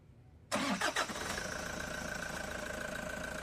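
Toyota Hi-Ace engine cranking and catching after an oil change and flushing, a brief starter whir with a few surges, then settling into a steady, moderately loud idle.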